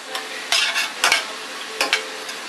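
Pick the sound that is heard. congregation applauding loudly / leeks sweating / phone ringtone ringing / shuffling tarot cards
leeks sweating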